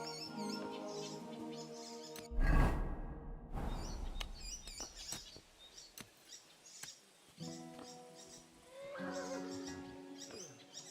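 A horse being ridden in Kingdom Come: Deliverance II whinnies and snorts nearby amid thuds of movement, set against chirping birds and soft musical ambience.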